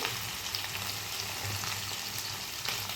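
Ivy gourd pieces and sesame seeds fry in a pan with a steady, dense sizzle, close and even throughout with no talk.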